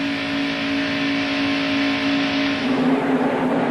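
Engines of NASCAR stock cars in double-file formation at the start of the 1991 Pepsi 400, heading into turn one: a loud, sustained droning engine roar that shifts in pitch and grows rougher toward the end, without talk.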